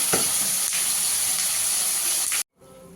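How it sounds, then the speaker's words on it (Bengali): Pieces of phasa fish fry in oil until reddish, a loud, continuous sizzle with a few sharper spits that suddenly cuts off near the end, leaving quiet room tone. "মাছগুলোকে একটু লাল লাল করে ভেজে নেবো"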